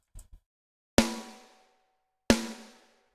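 Two separate hits on an Eloy Drums snare with the snare plate switched off, each a sharp open crack with a ringing tonal tail that fades over about a second, preceded by a faint soft tap.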